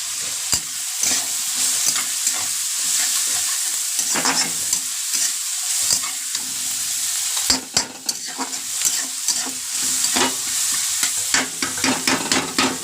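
Tomatoes frying in a pan for a prawn coconut curry, with a continuous hiss of sizzling oil broken by frequent scraping strokes of a spoon stirring, close and fairly loud.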